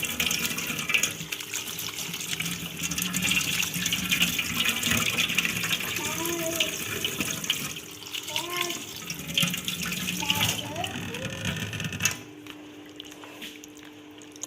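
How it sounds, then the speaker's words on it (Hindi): Fresh grapes rinsed under a running kitchen tap, with a steady close splash of flowing water, wet squishing and rubbing of the bunch, and brief handling clatter before the flow cuts off near the end. "इसको अच्छी तरह से 2-3 पानी से मैं वॉश कर लूँगी।"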